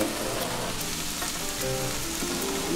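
Steady crackling sizzle of green peppers frying in a hot pan for picadillo, with soft stirring scrapes underneath, continuous and close.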